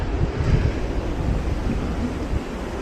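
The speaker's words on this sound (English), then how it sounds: "Alright, this is a waterfall." A waterfall beside the Potomac trail gives a steady broadband rushing roar, close and fairly loud, mixed with gusts of wind buffeting the microphone and no talk.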